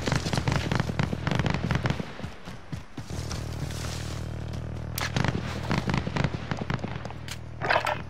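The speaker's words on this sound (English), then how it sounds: "Yeah, I'm being shot at over here." Gunfire in Call of Duty: Modern Warfare, a dense crackling stream of rapid shots and bursts that pauses briefly midway, then resumes with sharp louder cracks; no talking.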